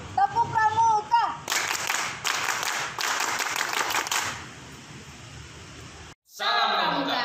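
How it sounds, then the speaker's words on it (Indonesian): A group of Indonesian scout children and leaders perform the rhythmic Pramuka clap, bursts of patterned clapping in short blocks, with a voice speaking before it and after. "Tepuk pramuka."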